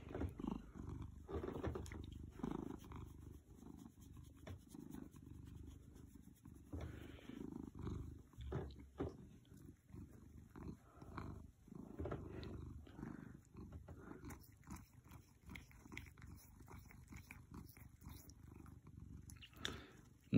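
A female cat purrs steadily up close, a continuous low rumbling hum that swells and softens with each breath, with no talking over it.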